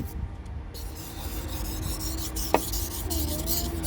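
Steady rasping strokes of a knife blade rubbed across an oil whetstone, with a brief sharp click partway through.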